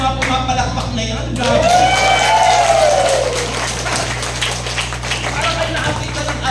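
Applause from a church audience at a Holy Spirit baptism gathering in Lipa City, Batangas, steady clapping under a speaking preacher's voice and a faint electronic whistle.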